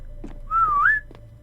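A person whistles a short, clear, sliding tune to imitate the music of the video game Infinite Ikea, a single bright phrase lasting about half a second over faint background noise.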